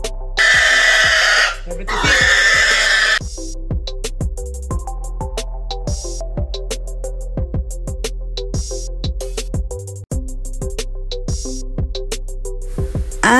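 Pigs on a small provincial pig farm in the Philippines grunt and oink repeatedly at close range, with a burst of louder squealing near the start and steady talk running underneath.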